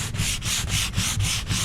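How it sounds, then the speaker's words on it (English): Hand sanding a door with 100-grit Norton professional production sandpaper: about six even back-and-forth rasping strokes in a steady rhythm, close and loud, with no voices. "if we look at this and we sand with 100 grit, especially if I sand in a line"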